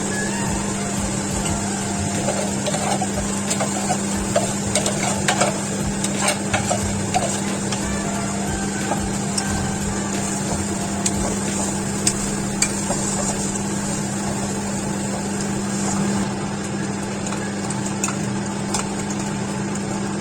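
Finely ground cabbage paste frying in a pan while being stirred, a steady sizzle with scraping strokes and light clatter running continuously at close range, no voices.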